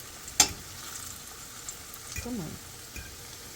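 Plantain slices frying in a pan, a faint steady sizzle with a sharp clink near the start and soft scraping of turning, while a voice speaks briefly.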